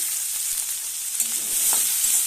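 Spices and chopped tomatoes fry in a pan for a Bengali fish curry, giving a steady close sizzle with light crackles and the odd stir throughout, no voices.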